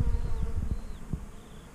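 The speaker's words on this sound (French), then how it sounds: "ça bourdonne autour de moi, c'est plein d'abeilles" Bees buzz around in a summer field at Valensole, Provence, a fluttering drone of several insects passing close by, with a few soft low thumps underneath and no voices.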